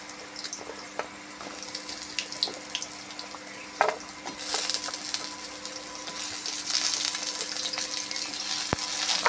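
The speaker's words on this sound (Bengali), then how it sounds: "এবার আমি আলুগুলো ভেজে নেব।" Potatoes frying in oil in a pan, with a continuous close hiss of sizzling, occasional clicks and scrapes of stirring, and the sizzle growing louder and denser midway, with no talking.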